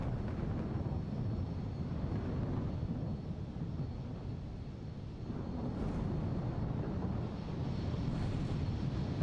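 An airliner takes off in Microsoft Flight Simulator 2024 at a double-runway airport, a broad, steady engine roar and rumble that swells slightly mid-way and holds loud and continuous throughout.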